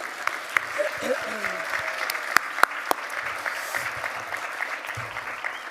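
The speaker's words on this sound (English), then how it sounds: "deserves a massive round of applause" Audience applause at an Aboriginal honour roll award ceremony, a sustained wash of clapping from a large crowd lasting several seconds, with a few louder individual claps standing out near the end.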